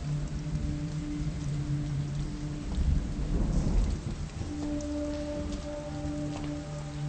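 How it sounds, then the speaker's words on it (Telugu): A heavy downpour roars steadily for the whole stretch, with a deep rumble of thunder swelling near the middle and then fading back into the rain. "వర్షం ఇప్పుడప్పుడే తగ్గేలా లేదు."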